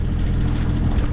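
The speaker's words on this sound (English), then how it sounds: "We're under engine." A sailing boat motors along under engine power off Anglesey, giving a steady low droning rumble with constant wind and hull noise, close and fairly loud, with no voices.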